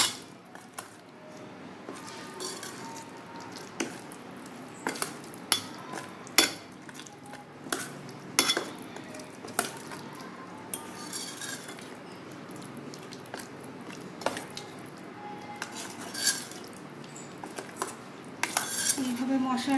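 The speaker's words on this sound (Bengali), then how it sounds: "এবার সমগ্র মশলাটা আমি ভালো করে মেখে নেব।" A spoon scrapes and clinks against a bowl as spice paste is mixed with turmeric and salt for steamed hilsa fish, giving intermittent close metallic taps and soft squishy stirring with no talking.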